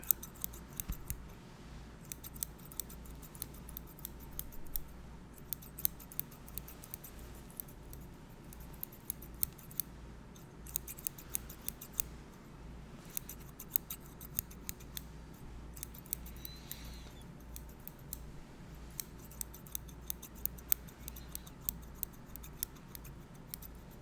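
Scissors snipping steadily through a long ASMR haircut roleplay, quiet close-up cuts repeating at an uneven pace over a faint hiss, with no talking.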